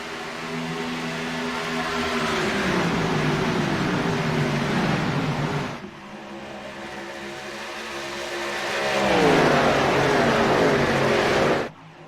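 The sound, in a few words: race cars on track in a NextGen K&N Series race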